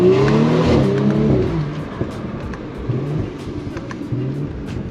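A B9 Audi S4 with an added intake revving hard in second gear, a loud rising engine note that eases off into scattered crackling exhaust pops, with no talk.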